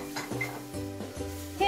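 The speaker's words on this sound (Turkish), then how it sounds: "Şöyle 3 yemek kaşığı unumu da ekliyorum." Three spoonfuls of flour go into melted butter in a pot for arabaşı soup, with soft scraping and clinking of a spoon and faint sizzling, quiet and close.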